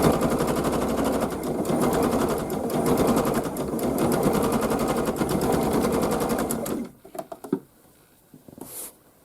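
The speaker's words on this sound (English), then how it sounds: "I'm going to stitch all the way down to where I left off." Sewing machine stitching down a floral zig-zag quilt, a steady fast mechanical whir and patter running loud and close for several seconds before stopping, followed by a few soft handling clicks.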